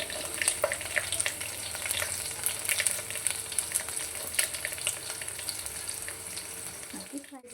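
Onions frying in oil with garlic for a lentil and greens saaru, a steady close sizzle with scattered crackles and light stirring, ending abruptly in a brief knock.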